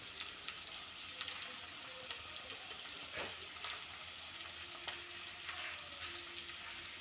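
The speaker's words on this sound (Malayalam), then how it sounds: "വെളുത്തുള്ളിയും കൊച്ചുള്ളിയും പച്ചമുളകും പുളിയും എല്ലാം കൂടെ ഒന്ന് വാട്ടാം." Garlic, shallots, green chili and tamarind sautéing in a pan, a soft, steady sizzle and crackle with a few scattered stirring scrapes and clinks, quiet and alone.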